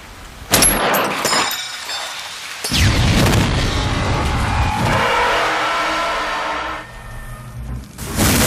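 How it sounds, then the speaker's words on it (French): An explosion scene from the film Time and Tide brings sharp bursts and crashes, a roaring blast with shattering debris and engine-like rumble, loud and chaotic, ending in a final hit. "Maintenant, regardons comment il filme une explosion dans Time and Tide."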